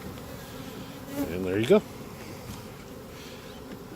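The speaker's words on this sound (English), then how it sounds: "So there's the beehive from start to finish." Bees buzzing around a freshly assembled beehive after the lid goes on, a low steady hum with a brief louder buzzing swell as a bee passes close, while a voice speaks briefly.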